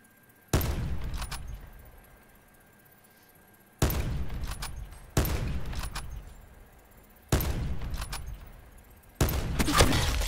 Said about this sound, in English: I hear you shooting, guy.